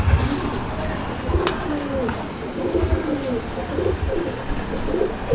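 Several pigeons coo inside a loft, their low throaty calls repeating every second or so at close range while a voice talks quietly nearby.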